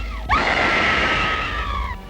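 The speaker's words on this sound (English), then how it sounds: "it became the most famous scream in the history of American motion pictures" An actress's famous scream from the film King Kong: one long, sustained, high-pitched shriek that starts sharply and holds steady for nearly two seconds, loud and alone.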